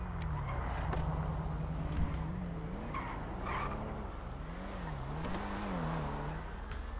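In Grand Theft Auto Online, a car's engine hums at a steady low level with gentle rises in pitch, joined by a few brief tire skids, all fairly quiet.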